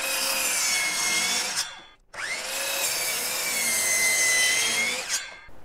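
A saw rips through a wooden table top board in two close, loud passes, the whining cut dropping out briefly between them before resuming and tapering off at the end.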